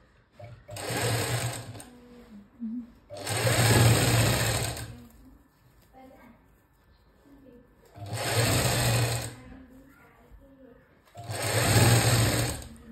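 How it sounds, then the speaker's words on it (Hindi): A sewing machine stitches the back panel of a princess-cut blouse in four distinct runs of fast, even whirring and ticking, each a couple of seconds long, separated by short quiet pauses, close and fairly loud. "अब हम इसको ब्लाउज में स्टिच करेंगे तो ये जो हमने बैक पार्ट बैक साइड पे लिखा था ना उसी से हम यहाँ से सिलाई लगाना स्टार्ट करेंगे"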